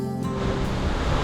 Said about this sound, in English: The river surges with gusting muddy rainwater